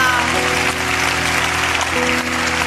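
A theater audience applauds continuously, a dense, loud wash of clapping lasting throughout, with a sustained musical tone running underneath.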